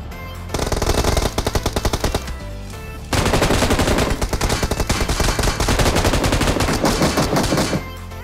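Sustained automatic fire from twin M249 light machine guns in the BGMI battle royale game, loud rapid bursts nearly filling the clip with a brief pause near the start and another around the three-second mark.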